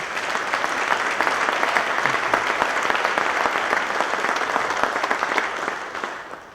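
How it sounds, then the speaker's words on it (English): Audience applause at a memorial service, a sustained round of many hands clapping with sharp individual claps audible, steady and fairly close before tapering off at the end. "What another nice round of applause for this beautiful video."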